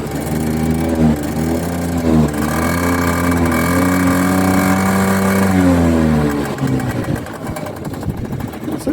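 A 2002 Peugeot Looxor 50cc two-stroke carburettor moped with a catalyser idles nearby, its engine note steady and buzzing before rising briefly and settling into a rougher, uneven running sound toward the end.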